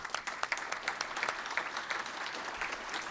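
An audience at a business recruitment talk gives a round of applause for the Chamber, dense steady clapping from a room full of people, close and continuous throughout.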